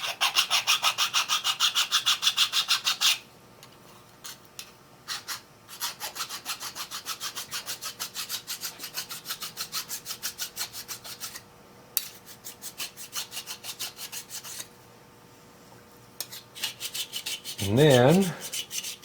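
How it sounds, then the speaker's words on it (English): A hand file rasps off a burr on a gas tank bottom plate, in rapid rhythmic strokes in bursts with short pauses, close up, followed by a brief voice near the end. "Now, I'm going to file off the burr pushed out on the back."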